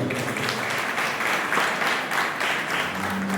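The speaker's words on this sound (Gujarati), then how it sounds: "એમના માટે તાળી આપી દો" An audience claps for a homeopathic doctor at a free treatment event for disabled children, a dense burst of applause that carries on steadily.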